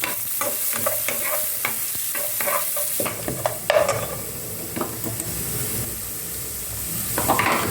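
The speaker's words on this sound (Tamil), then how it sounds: "நல்லா வெங்காயம் வதங்கிடுச்சு" Steady sizzling of onions frying in a pan, with repeated scraping strokes of a spoon stirring close by.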